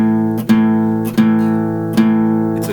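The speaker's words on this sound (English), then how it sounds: "So this is an A rock chord." Electric guitar plays a two-string A rock chord, open fifth string with a fretted note, struck three or four times in an even rhythm, each crunchy chord ringing and decaying before the next.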